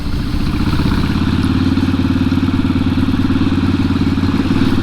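A Harley-Davidson Sportster Iron 883 runs loud and close on a new battery after a hard start, its engine settling into a steady, throbbing idle with mechanical clatter.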